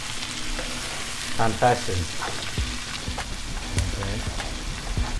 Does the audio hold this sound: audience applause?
no